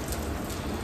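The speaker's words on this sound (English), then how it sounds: "the rain is really coming down" Heavy rain pours down outdoors, a steady dense hiss of drops striking surfaces nearby, continuous and fairly loud with no voices.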